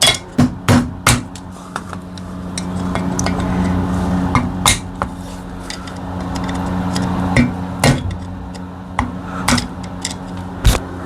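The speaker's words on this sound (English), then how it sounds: "But yeah, I'll hammer these." Sharp metallic hammer strikes ring out close by as valve stem seals are hammered in during a Honda J37 engine rebuild, a dozen or so blows in irregular bursts with a low mechanical hum between them.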